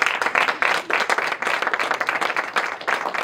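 An audience breaks into steady, loud applause, many hands clapping densely together with a few swells over several seconds, the crowd filling the hall.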